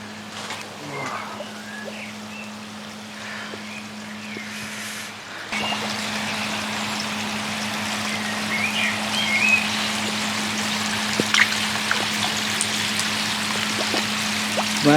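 Steady rain patters and hisses on a pond, growing heavier partway through, with a low constant hum underneath.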